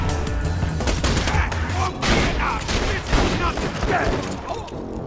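Rapid gunfire from a weapon in the co-op video game Borderlands 2, a dense loud barrage of shots running almost continuously under players talking.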